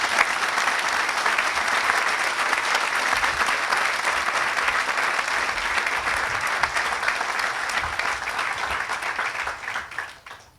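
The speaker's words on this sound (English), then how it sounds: "Please join me in a round of applause" Sustained, dense audience applause at a college Health Sciences Center groundbreaking ceremony, a loud, even wash of many hands clapping for about ten seconds before tapering off quickly at the end.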